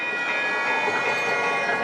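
A train rolls along its rails in a steady, dense roar with a faint high whine, continuous and fairly close, with no talk.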